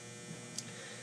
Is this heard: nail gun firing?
no